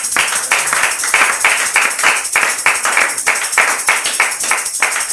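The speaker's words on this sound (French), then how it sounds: "Sous vos acclamations, on va inviter le frère Serge." A congregation at a church service claps in a steady, fast rhythm to welcome a speaker forward, loud even beats repeating throughout with no talk over them.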